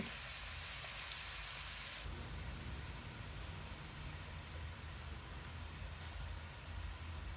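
Chopped sweet pumpkin fries in a pan over high heat for halwa, a steady hissing sizzle that flares loudly at first and then settles into a constant crackle with no talking.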